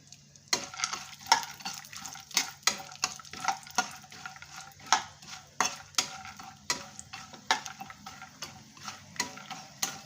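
Dry fruits frying in hot ghee as they are stirred in a pan: a soft sizzle runs under regular, close clicks of a spoon against metal, roughly two per second, with no talking.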